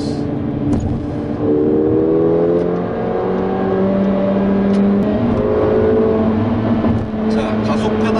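A 2016 Mercedes-AMG A45 4Matic accelerates hard in a sport mode, its engine note climbing in rising, then resetting tones, heard loud from inside the car with a voice talking over it.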